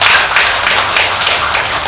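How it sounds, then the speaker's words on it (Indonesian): An audience applauds for Genjet at a youth gathering, with dense, loud, continuous clapping from a nearby crowd lasting the whole moment. "Tepuk tangan untuk Genjet."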